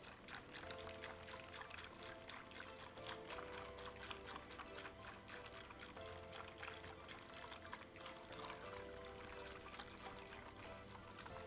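Liquid poured slowly and steadily into a pot while being stirred, a continuous soft trickle with faint background tones running throughout.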